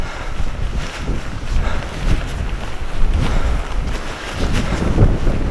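Wind gusts hard across open Scottish hillside near Inchnadamph, roaring and buffeting the microphone loudly and steadily throughout, with no voices heard.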